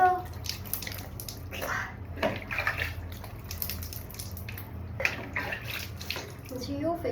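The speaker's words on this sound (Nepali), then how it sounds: "अब चाहिँ मुख धुनु पर्यो" Water splashes in short bursts as a face is washed by hand at a basin. The splashes are close and moderately loud, coming in several separate rounds.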